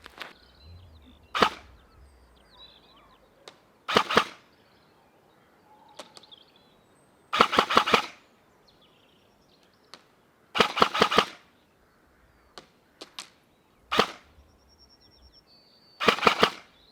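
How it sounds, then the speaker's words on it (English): An ICS SA80 airsoft rifle fires at an oil drum about 65 metres downrange, with sharp cracks singly and in quick bursts separated by pauses and faint metallic impacts from the distant drum. "every one of those shots I'm firing is landing onto the oil drum"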